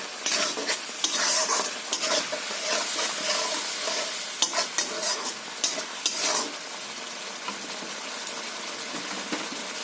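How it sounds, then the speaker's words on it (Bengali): Potatoes tossed into a cooked-down spiced masala sizzle and fry for a fish oil-jhal curry, with steady spoon stirring and scraping against the pan, close and continuous, no voices. "মশলাটা আমার কষা হয়ে গেছে, আর আলু দিয়ে দিলাম আলুটা।"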